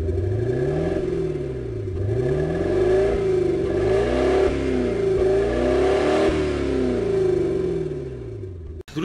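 A VAZ 2107 engine idles on an overly rich mixture, its speed sagging and hunting. A loud, close, continuous engine drone slowly rises and falls in pitch, with no one talking.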